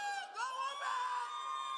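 Crowd cheering and whooping at a college commencement ceremony, a brief burst of shouts and yells from the audience, fairly distant and steady over a couple of seconds.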